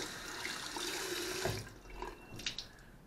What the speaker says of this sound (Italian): quindi acqua calda, ecco